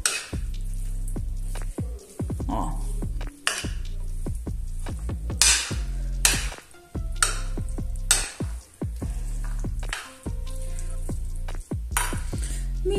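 Rice and chicken stirred together in a hot pan, a spoon scraping and tapping the pan in repeated strokes over a steady sizzle, close and loud, no talking.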